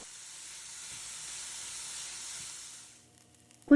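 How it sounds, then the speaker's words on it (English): Chopped yellow onion hits melted unsalted butter for a brown sauce, giving a steady, fairly soft sizzle for about three seconds before it fades, followed by a brief close knock. "Melt some unsalted butter. Add a chopped yellow onion."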